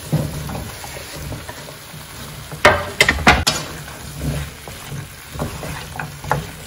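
Carrots, potato and beans stir and fry in a spiced pan, giving a steady low sizzle broken by a few clattering spoon scrapes and knocks against the pan, close and moderately loud.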